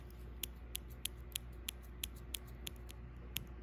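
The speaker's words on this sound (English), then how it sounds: "makes like a snipping sound." Small plastic toy scissors from an Our Generation doll desk set snip about ten times in a loose, uneven rhythm, each snip a crisp, bright click close by over a quiet, steady background hum, with no talking.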